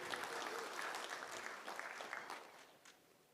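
Audience at a tech conference talk applauding and cheering for a few seconds, a dense wash of clapping that gradually fades, heard from a distance.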